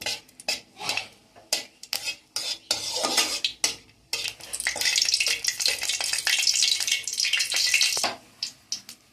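A broken dried red chili frying in oil in a pan along with cumin seeds, with a steady sizzle and repeated scrapes and clinks of a spatula stirring against the metal, close and fairly loud.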